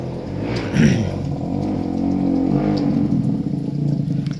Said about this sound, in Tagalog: Ginuula mo yung motor na yan.